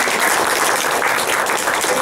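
Audience applause after a talk at a library, a dense, steady round of clapping from a roomful of people.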